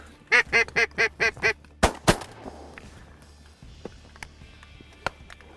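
Ducks on a flooded wheat field during a prairie duck hunt quack in a quick rhythmic burst of six calls, then two sharp, loud shotgun blasts follow, with fainter scattered pops and quacks trailing off afterward.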